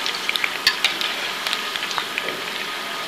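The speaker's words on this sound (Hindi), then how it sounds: "ये देखिए रोल हमारे कितने अच्छे से फ्राई हो चुके हैं" Chicken macaroni rolls fry in hot oil with a steady, close sizzle and scattered sharp crackles and pops.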